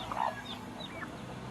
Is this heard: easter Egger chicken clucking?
yes